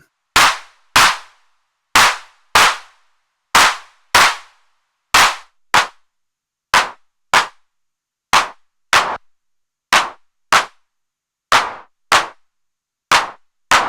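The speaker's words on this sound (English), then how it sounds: "some odd random splutters from that low pitch, and clap-like sounds from the higher ones" Mutant Drums modular synth percussion fires sharp, clap-like noise hits with reverb tails, about two dozen loud strikes in an uneven, often paired rhythm, with no voices.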